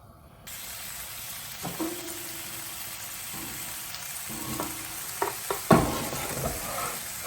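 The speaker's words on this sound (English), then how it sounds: "we're going to let this render down the fat from the bacon" Bacon sizzles and renders its fat in a pan for a pork stew, a steady frying hiss with a few sharp pops and faint utensil taps, no talking.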